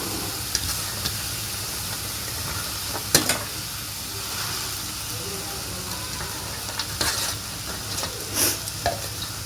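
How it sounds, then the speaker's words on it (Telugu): Chopped amaranth leaves frying uncovered in a pan with onion chili paste, a steady soft sizzle with occasional stirring scrapes and brief louder hisses, close up and with no talking. "దీని మీద మూత ఏం పెట్టాల్సిన పని లేదండి, ఇలాగే వేయించుకోవచ్చు"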